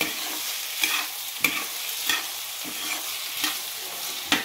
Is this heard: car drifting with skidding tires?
no